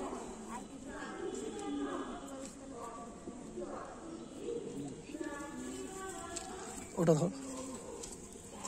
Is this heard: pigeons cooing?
yes